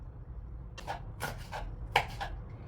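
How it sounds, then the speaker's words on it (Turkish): Quiet knife chops through red peppers on a board, four or five soft strikes in an uneven rhythm against a low background hum. "Şimdi ben kapya biberlerimi doğrayacağım."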